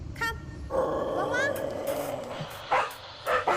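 A dog of a dangerous breed barks and yelps in short bursts, loud and close, mixed with people talking and a brief whimper-like tone.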